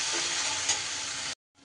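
Spice paste salted and sautéed in a pan gives a loud, dense, steady sizzle, close and unbroken, ending in a sudden stop and a faint brief return.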